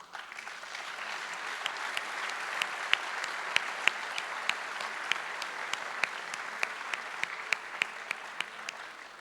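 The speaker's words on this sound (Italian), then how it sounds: "Questo caloroso applauso" Warm applause from an indoor audience, a sustained, even wash of clapping with crisp individual claps popping out throughout, moderately loud and uninterrupted by speech.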